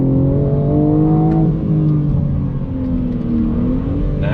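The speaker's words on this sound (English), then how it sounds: "Hard throttle, here we go." A 2021 BMW M4 Competition pulls hard in second gear under full throttle, its engine note loud and rising steadily from inside the cabin with a brief dip and recovery partway through.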